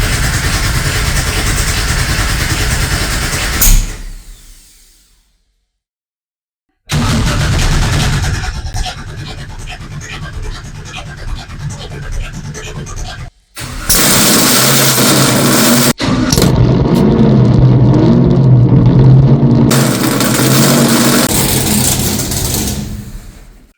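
Big block Chevy 572 cubic inch racing powerboat engines, loud and close, with a roaring run, a few seconds of silence, then sustained revving and a steady high-power drone.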